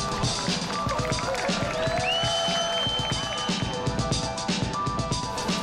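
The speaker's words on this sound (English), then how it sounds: "Big round of applause." Applause and cheering from a crowd at a mountain bike race event, dense and continuous throughout, with music-like tones and voices mixed into the steady roar.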